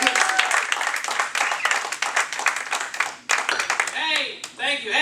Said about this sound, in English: Please give it up for Big Dan.